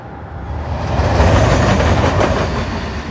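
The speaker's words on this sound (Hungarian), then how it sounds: "Tíz órás vonatút vár ránk." A passenger train runs along the rails with a steady, loud rumble that swells in the middle, a rhythmic clatter of wheels and faint metallic squeal underneath, no voices.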